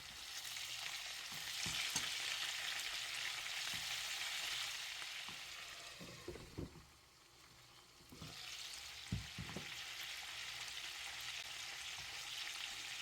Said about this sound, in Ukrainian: смажимо 5-7 хвилин під закритою кришкою на середньому вогні